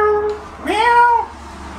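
Cat giving a single clear, close meow with a rising then falling tone, preceded by a softer short vocal sound.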